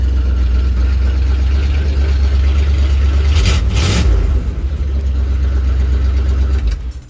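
A 1981 Dodge Ram D250 pickup with a 5.9 L engine idles on newly replaced motor mounts, giving a steady, loud low rumble that swells briefly midway and drops away at the very end.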